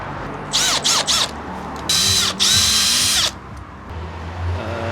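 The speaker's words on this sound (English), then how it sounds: "So I'm using pocket holes to create the frame." A power drill bores pocket holes in wood for a campervan frame, with three short bursts followed by two longer whining runs, loud and close, with quieter gaps between them.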